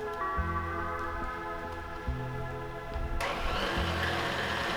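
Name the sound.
KitchenAid pasta roller attachment running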